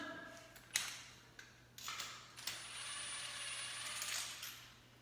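A ratchet spins out spark plugs from an LS engine, with quick clicking bursts and metallic ticks up close, in short separate runs with pauses between them.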